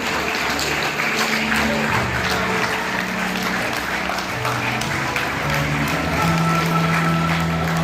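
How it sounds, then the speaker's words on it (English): An audience in a school auditorium claps steadily during an investiture ceremony, a loud continuous wash of applause over sustained background music and faint voices. "let us give a big round of applause as our dignitaries and captains light the lamp"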